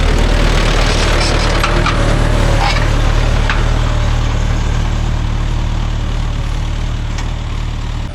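A Mahindra Yuvo Tech Plus 585 4WD shuttle gear tractor works a field with a 9-point cultivator, its loud, steady diesel drone running unbroken and close throughout, with no talk over it.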